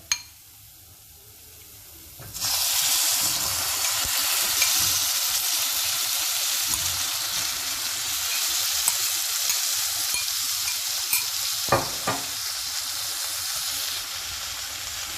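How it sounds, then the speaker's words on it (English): Fried prawns dropped into sizzling masala for a Bengali prawn malai curry: a quiet start, then a sudden loud, hissing sizzle that holds steady, with a few sharp clinks of a utensil against the pan. "I am going to add the prawns that we had fried earlier"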